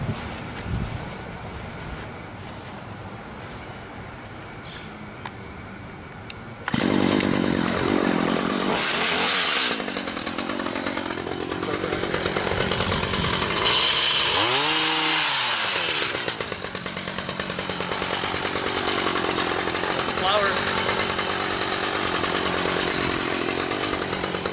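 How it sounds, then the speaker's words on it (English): A gas-powered trimmer cuts back a rose bush outdoors, its engine buzzing loud and steady once it starts partway through, with the pitch dipping and rising as the blades bite into the branches. "So time to trim up the rose bush."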